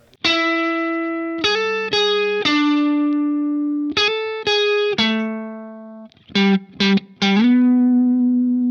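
Distorted electric guitar with a chorus-like effect plays a song's chorus riff: sustained, ringing notes, then a burst of quick, choppy notes before a final held chord.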